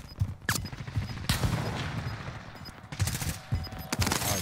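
Repeated sniper rifle shots and bursts of gunfire in a Call of Duty: Warzone match, sharp loud cracks every half second or so over steady background battle noise, fairly close.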